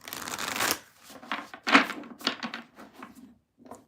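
Tarot cards are shuffled by hand, with several brief riffling and tapping bursts separated by short pauses, close and fairly quiet.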